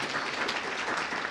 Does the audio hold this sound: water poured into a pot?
no